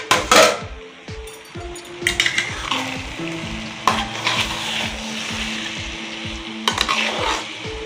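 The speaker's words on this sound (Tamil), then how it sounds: "கிண்டி விட்டுருவோம்." Mutton biryani with seeraga samba rice stirred in a pot over high flame: repeated scraping and clanking strokes of a spoon against metal over a low sizzle, close and fairly clear.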